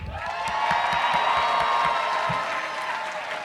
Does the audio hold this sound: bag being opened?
no